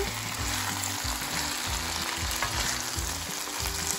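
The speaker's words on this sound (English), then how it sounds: "Now I'm going to add my ackee gently" Ackee and saltfish fry in a pan with a close, steady sizzle, and a low rhythmic rumble pulses underneath throughout; no one speaks.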